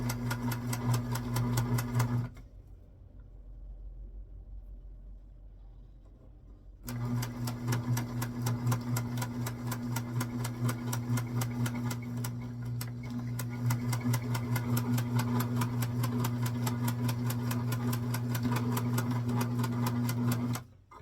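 A sewing machine stitches elastic onto small doll panties in steady rapid bursts, pausing for several seconds before running again for a long continuous stretch, close and alone with no talking.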